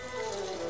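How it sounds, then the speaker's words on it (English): A tap runs as water fills a cup, a brief, steady splashing stream with a rising tone as the cup fills. "Alright, I'll get some water,"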